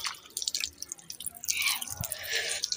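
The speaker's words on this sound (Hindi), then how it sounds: "मैं अभी मुँह धोने आया था, यहाँ गर्मी बहुत है ना, तो इसलिए मुँह धोते हैं" Water runs and splashes in uneven bursts as a face is washed in hot weather in a village, the drips and gushes close by and fairly loud, with no talking.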